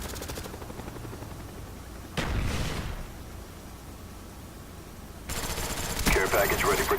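Gunfire from a teammate's weapon in a Call of Duty: Black Ops hardcore capture-the-flag match on Nuketown: a short loud burst near 2 seconds, then a sustained rattling volley toward the end over steady game ambience.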